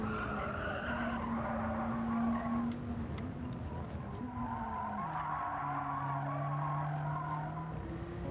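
A BAC Mono racing car in Gran Turismo 7 sliding at full opposite lock, with tyres squealing continuously over a droning engine whose pitch wavers and drops as the car skids, loud and close with no talk.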